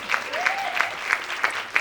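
Studio audience clapping in a regular rhythmic beat, loud and close, with a few voices faintly underneath.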